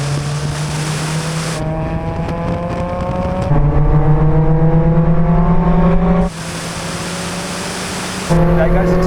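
A turbocharged Mazda MX-5 Roadster accelerates in a rolling drag race from 50 mph in third gear, its engine droning loudly and rising in pitch through steady pulls, with abrupt shifts and a strong broadband rush throughout.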